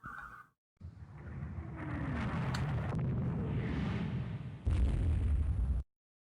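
Naval gunfire and shell hits in Rule the Waves 2 during a fleet battle in the Baltic, with 16-inch guns firing on cruisers: deep booming blasts roll into a long rumble, and a second heavy burst follows near the end before sudden silence.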